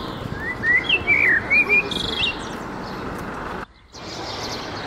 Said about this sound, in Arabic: تسمعوا صوت العصافير؟